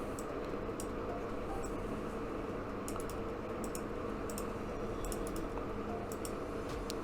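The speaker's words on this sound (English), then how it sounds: "We're going to type in this code." Steady typing on a computer keyboard entering an activation code, a continuous run of close key clicks over a constant background hum.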